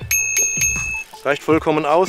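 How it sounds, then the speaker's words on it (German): A compact bicycle bell, chosen for its small form factor, rings three times in quick bright strikes, each leaving a ringing tone, then someone talks. "starten wir mit dem kleinsten Zubehör, die Klingel"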